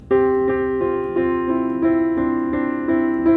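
Piano notes repeat in an even rhythm with the sustain pedal held, each one ringing on and blending into the next with a sustained, washed tone.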